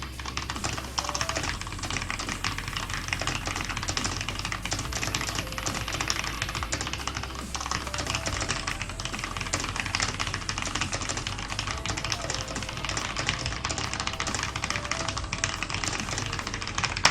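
Fast typing on a computer keyboard during an online typing race: a dense, continuous stream of quick key clicks and taps, close and steady throughout.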